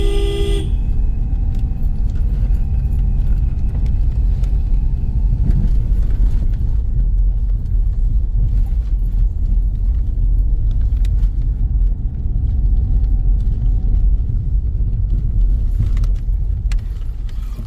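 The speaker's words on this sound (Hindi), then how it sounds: "पहले गियर में ही गाड़ी चल रही है, दूसरा गियर तो मैं लगा ही नहीं पा रहा हूँ।" A Ford EcoSport labors in first gear up a steep, narrow, broken hill road near a Shiva temple at Chail in Himachal, giving a loud, steady low engine rumble. A short horn toot sounds at the start.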